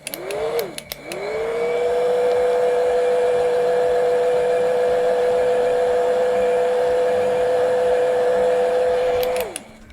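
A hair dryer blows steadily on wet paint for about nine seconds, a loud continuous whirring hum with a steady whine, switched on near the start and cut off at the end, with a few brief clicks around it.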